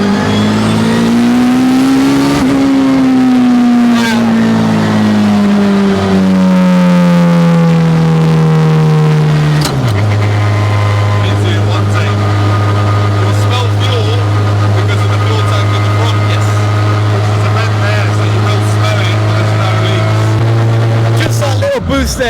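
A turbocharged K24-swapped Toyota MR2 roars loudly up close, its pitch rising and sagging through a long rev before settling into a steady, droning high idle.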